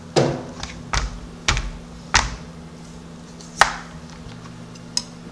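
Knife cutting the ends off garden-grown zucchini on a board, about seven crisp, separate chops spaced irregularly, close and clear over a faint steady hum, no talking.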